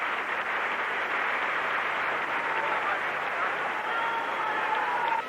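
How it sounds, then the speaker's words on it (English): A packed arena at the 1981 World Artistic Gymnastics Championships fills with steady roaring applause, with thin sustained whistles of protest at a score rising faintly above the crowd noise in the later seconds. "you can hear the whistles"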